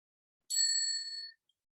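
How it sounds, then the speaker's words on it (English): A single bright bell strike of the kind used as a session timer at an academic conference on breeding and diversity, ringing clearly for nearly a second before fading out, alone in an otherwise silent room. "there will be a bell rung on the 12th minute of your presentation like this"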